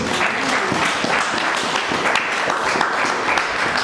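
A church congregation applauds after a Bible reading: dense, steady clapping from many hands that fills the room evenly for a few seconds, with no one speaking over it.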